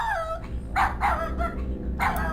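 A dog in the video game King's Quest 7 barks a series of short, clear yaps, about four or five, spaced unevenly over a low steady background hum from the game.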